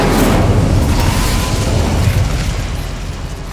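A fire spell blasts out in a Harry Potter video game, a loud, dense whooshing roar that fills the whole clip and slowly fades over a few seconds.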